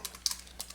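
A few quick, light clicks of typing on a computer keyboard, close and quiet, irregularly spaced keystrokes over less than a second.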